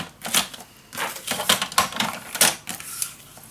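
Paper is trimmed for a scrapbook folio in a series of quick, crisp cuts, snipping and slicing strokes repeated at a steady pace, close and fairly loud with no talking.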